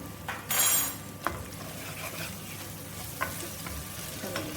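Onions fry in a pan on low-medium gas for a matar paneer curry, a soft steady sizzle punctuated by a loud burst of spatter early on and a couple of sharp utensil taps against the pan.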